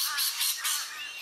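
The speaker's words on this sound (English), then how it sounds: "This is the female Australian wood duck." A female Australian wood duck gives three quick, harsh squawking calls in a row, fairly close and clear, the last one trailing off, with no voices present.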